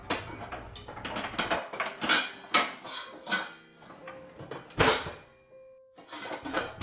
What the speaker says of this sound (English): you can only hear her moving pots and pans around